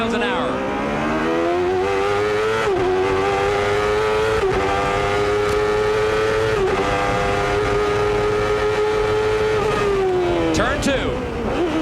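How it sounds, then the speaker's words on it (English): A Chevrolet-engined Indy race car at the 1993 Toyota Monterey Grand Prix screams at high revs, its pitch shifting with brief dips as it changes gear, loud and close throughout with a commentator talking over it. "Squeezing every horsepower out of that Chevrolet engine trying to catch Mansell."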